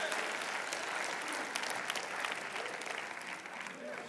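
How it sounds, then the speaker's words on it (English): Church congregation clapping hands in response to a guest preacher, a broad sustained burst of applause with scattered sharp claps and some crowd voices mixed in, gradually tapering. "Clap your hands and let me hear how many are in this house that know what I'm talking about."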